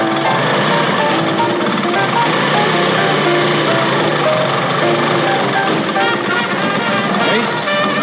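A Honda CT90 motorcycle engine fitted with a new NIBBI carburetor runs steadily close by, a loud continuous buzzing putter that holds an even idle throughout, with no talk over it.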